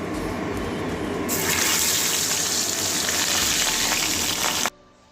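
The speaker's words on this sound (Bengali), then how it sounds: "এবারে বাকি আর একটা ওইভাবেই ভেজে নেবো" Katla fish pieces frying in hot oil give a loud, dense crackling sizzle that surges stronger after a second, holds steady, then cuts off abruptly near the end.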